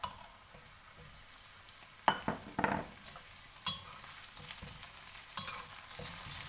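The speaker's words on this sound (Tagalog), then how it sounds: "just stir and then make it fry a little bit, make it brown." Chicken feet fry in a pan with onions while being stirred, a quiet steady sizzle broken by several sharp scraping knocks from the spoon against the pan.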